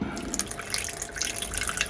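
Water trickles from a faucet into a container for pizza dough inside a camper, a steady close splashing and dripping stream that runs throughout without talk.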